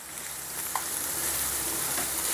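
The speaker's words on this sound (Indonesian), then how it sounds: "Goreng salbe." Salbe, a stick snack, frying in a pan of hot oil: a steady, even sizzle close up, with a faint clink partway through and no talk.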